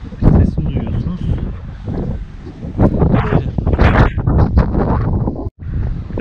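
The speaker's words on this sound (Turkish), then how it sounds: "Evet, çok rüzgar var." Strong wind buffeting the microphone outdoors in Filyos on the Turkish coast, a loud continuous rumbling roar with gusts that briefly cut out near the end, mixed with someone talking.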